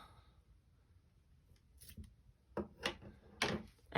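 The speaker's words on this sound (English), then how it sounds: "I'm going to trim the ends off" Scissors snip through yarn ends on a loom-knitted project, a few crisp close cuts after a quiet stretch, with soft handling noise between.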